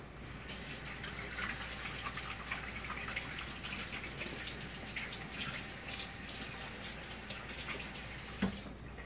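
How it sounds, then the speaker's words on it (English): Tap water runs steadily into a sink during handwashing, a continuous soft rushing gush with a faint clink near the end. "wash my hands"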